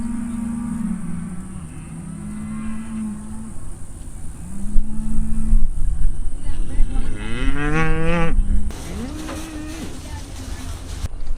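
Cattle in a field low several times, with long drawn-out moos that rise and fall, the calls growing louder and overlapping in the middle, over a low continuous engine-like rumble.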